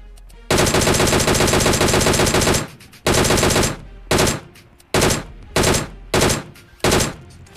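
Automatic gunfire in the mobile battle-royale game PUBG Mobile: a long sustained burst of rapid shots followed by a series of shorter bursts, loud and close, with no talk.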